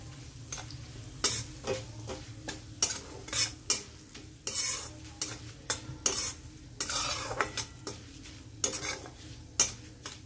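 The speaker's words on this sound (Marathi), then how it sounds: "धने टाकून घेऊ आणि बडीशेप थोडं जाड जाड कुटलेले, याला चांगलं थोडं परतून घेऊ" Coriander seeds and coarsely crushed fennel seeds are sautéed over low heat and stirred, with repeated scraping strokes of a utensil against the pan over a soft sizzle, up close and with no talking.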